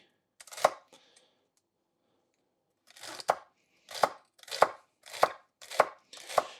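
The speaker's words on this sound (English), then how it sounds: "You also want a very sharp knife for when you're cutting these things" Knife chopping vegetables on a board: a single chop, a pause, then five sharp evenly spaced strikes close by, with no talking.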